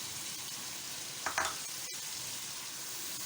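Masala with tamarind paste frying in a pan, a soft steady sizzle with a brief burst of stirring clatter near the middle, no voices.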